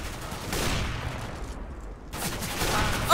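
Gunfire from Counter-Strike: Global Offensive comes in steady rapid bursts, moderately loud, with a brief lull in the middle before the shooting resumes.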